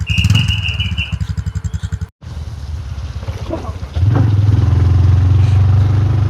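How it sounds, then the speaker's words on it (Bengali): A motorcycle engine near Risang waterfall in Khagrachari putters in a rhythmic pulse close by, cuts out for a moment, then settles into a steadier, louder drone. "যাত্রা শুরু করে দিলাম আবারও এবার কিন্তু মোটরসাইকেলে"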